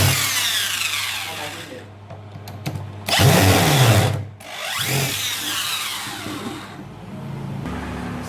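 A power driver works at the four side casing screws of a Bosch 11E breaker under repair, a whirring motor in bursts with a brief louder surge near the middle, close by, with someone talking during it.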